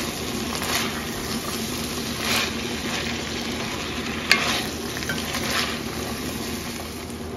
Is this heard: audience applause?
no